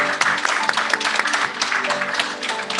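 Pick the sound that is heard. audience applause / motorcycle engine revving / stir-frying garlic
audience applause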